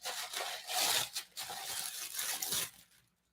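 A package holding a coffee mug is torn and rubbed open in quick scraping, crinkling bursts close by, fading to quiet at the end.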